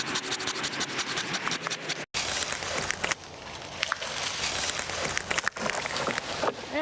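Hand sawing at the Caldwell Zoo: long, raspy strokes of a saw blade rub continuously up close, with a brief break partway through and no voices.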